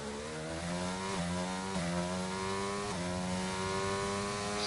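An F1 race car engine in the video game F1 22 at the Austrian round, screaming at high pitch and climbing steadily, with several quick upshifts dropping the tone before it rises again, loud and continuous with no voices.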